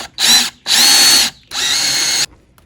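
A power drill whirs up loud and close in three bursts, the last one longer as it drives a screw home while fitting a sliding glass door latch kit; near silence in between.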